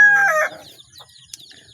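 Native chickens, large young birds, give a loud close crow that breaks off quickly, followed by scattered soft clucks and chirps nearby.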